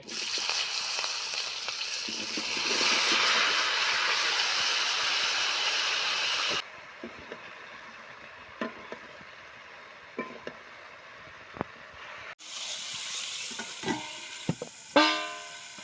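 Cauliflower and potatoes fry together in a pan for a winter vegetable dish, giving a loud steady sizzle that drops away abruptly midway, leaving quiet knocks and scrapes, then returns with stirring clatter near the end.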